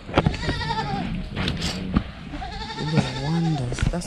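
Goats on a farm bleat several times in wavering calls, close by, with people talking in the background.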